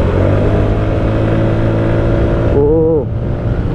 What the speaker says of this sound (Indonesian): kalau motor ini respons mesinnya itu dia kayak digas langsung track, kayak RPM langsung naik gitu